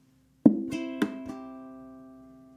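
Ukulele strummed with a percussive chucking pattern: a few quick muted strums and chucks ring out over about two seconds, close and clear, with no talking.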